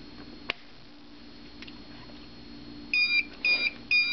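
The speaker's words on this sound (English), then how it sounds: "The alarm you're hearing is the low temperature alarm." Wood stove temperature monitor sounding its low temperature alarm: three short, sharp electronic beeps in a regular rhythm near the end, preceded by a faint click and quiet room hum.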